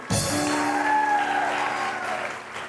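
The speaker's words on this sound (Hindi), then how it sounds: "जोरदार तालियां" Studio audience applauding for the judges at the finale of Bano Pakistan Ki Awaz, a televised Pakistani singing competition: a sustained loud burst of clapping that starts sharply and holds steady, with music sounding underneath.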